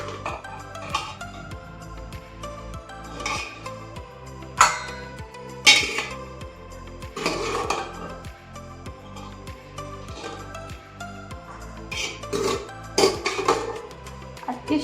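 Cooked sweet corn is scooped from a pan into a bowl with a series of sharp metallic clinks and scrapes at irregular intervals, over soft steady background music.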